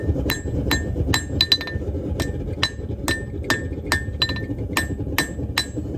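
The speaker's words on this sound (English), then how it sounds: "It moves very easily under the hammer. So I'm using a really light hammer for this." A light hammer forges a hot preform cut from a 200-year-old horseshoe. About a dozen sharp, ringing metallic strikes come in an uneven rhythm over a steady low background rumble.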